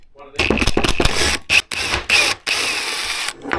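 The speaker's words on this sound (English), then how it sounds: "First I'm going to take this bolt out here and that bolt out there." Bolts on an ATV carburetor being loosened with a ratchet, a run of quick close clicks in bursts broken by short pauses.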